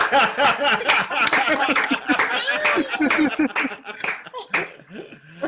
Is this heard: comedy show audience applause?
yes